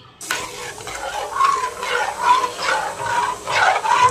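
Milk being stirred over high heat for kharvas, the spoon sweeping the pot in steady repeated strokes over a continuous bubbling sizzle, close and fairly loud.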